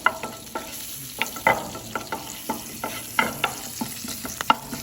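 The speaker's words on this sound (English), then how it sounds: "So you can hear the popping sound." Mustard seeds, curry leaves and whole dry red chili popping and crackling in hot oil, with irregular sharp pops scattered over a steady sizzle throughout, close up and with no talking.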